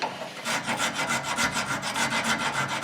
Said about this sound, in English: I'm just going to clean up the caliper here.